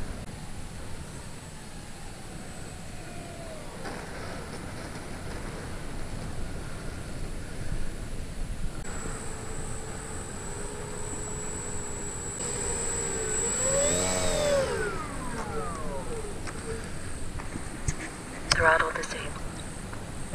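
Dynam PT-17 RC model biplane on its maiden flight, a high electric motor whine passing near and far with rising and falling pitch sweeps over steady wind noise, and a person talking throughout.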